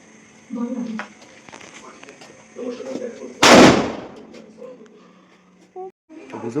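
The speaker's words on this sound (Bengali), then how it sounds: "একটা বড় চকলেট, দেখা যাক কি হয় আর কিরকম আওয়াজ হয় তোমরা শুনতে পাবে" A large 'chocolate bomb' firecracker goes off outdoors with one loud, sharp blast and a brief rumbling tail, while people talk before and after.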